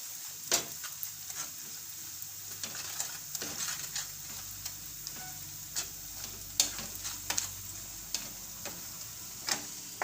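Chutney for a stuffed chibhada gourd curry cooks in a pan, a soft, even sizzle punctuated by sharp, irregular taps and clicks of a stirring spoon against the metal.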